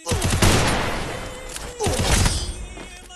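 Gunfire in a shooting video game: a burst of loud, rapid shots, a lull, then a second burst, close and dense, with the tail of each burst ringing out.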